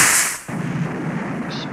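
Rocket launcher explosion in a Call of Duty video game opens with a loud, sharp blast that fades within half a second into a rumbling, noisy tail, with a brief high hiss near the end.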